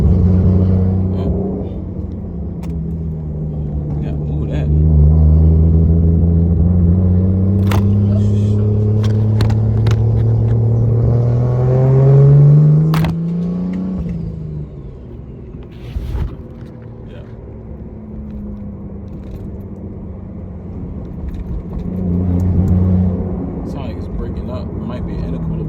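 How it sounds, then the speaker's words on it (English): A Lexus IS300 with a custom single exhaust and Treadstone manifold drives by, its engine rumble rising and falling through revs, loud and close, while people talk over it. "this is the first test drive with the exhaust"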